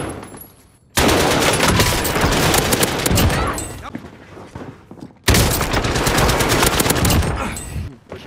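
Sustained bursts of AK rifle gunfire in a first-person video game, loud and dense, in two long volleys separated by a brief pause, with voices talking over the shooting.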